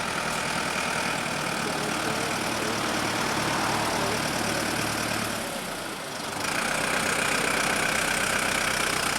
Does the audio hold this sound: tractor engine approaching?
yes